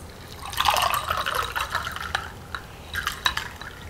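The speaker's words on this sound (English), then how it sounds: "So I'll go ahead and pour myself a glass" A homemade garden beverage is poured into a glass, liquid splashing and trickling for a few seconds with a couple of small drips and clinks at the end, close and fairly loud.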